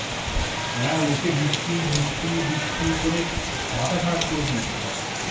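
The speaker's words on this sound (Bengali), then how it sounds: "বাইরে বিশাল বৃষ্টি হচ্ছে আজকে" Heavy rain falls steadily outside as a constant broadband wash, with a person talking over it throughout.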